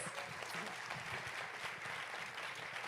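A crowd at a panel event gives a steady round of applause, many hands clapping in a continuous, fairly distant wash with no voices over it.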